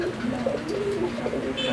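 A dove coos in low, soft, repeated notes close by, over a steady background hum.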